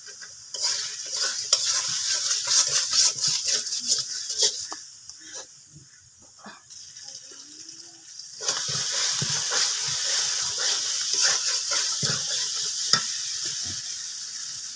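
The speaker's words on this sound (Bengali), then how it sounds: "মশলাটা ভালো করে কষানো হয়ে গেছে দেখেন মশলা থেকে তেল ছেড়ে দিচ্ছে" Spice paste with turmeric sautés in oil for a meat curry, crackling and sizzling up close while a spoon stirs and scrapes steadily. The sizzle eases for a couple of seconds in the middle, then returns at full strength, with no talking.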